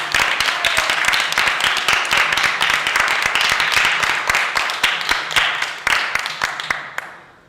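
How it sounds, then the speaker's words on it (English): A theatre audience at a free pop-up show applauds the actors and writers, with dense, sustained clapping that stays loud throughout before tapering off at the end. "So let's end it with a huge applause for actors and writers."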